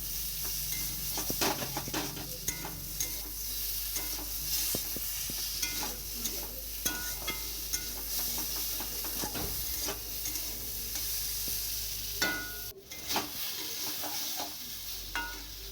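Spinach curry sautéed and stirred in a pan, a steady sizzle running throughout with frequent spatula scrapes and knocks against the metal, close and continuous.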